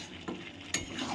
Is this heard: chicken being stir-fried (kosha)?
yes